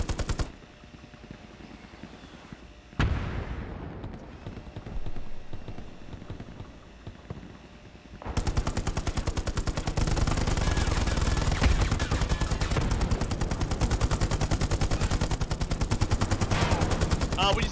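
Machine gun fire in the WWII shooter Hell Let Loose: after quieter rumbling and a sharp burst, a loud, sustained rapid rattle of automatic gunfire takes over and continues steadily to the end.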